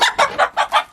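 A hen clucking in a coop, five quick, evenly spaced squawking clucks close to the microphone, loud and alone.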